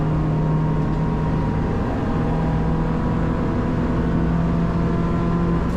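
A Citroen DS3 race car engine at Oulton Park drones steadily at high revs from inside the cockpit, with a loud, constant roar and whine and no break in it.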